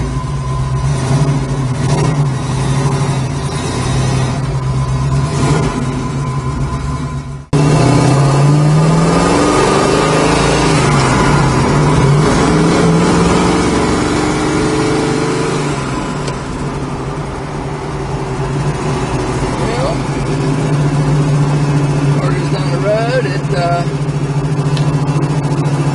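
A 1969 Chevrolet Camaro engine runs steadily just after starting, a continuous loud mid-low drone with a brief dip and surge partway through, heard while people talk nearby.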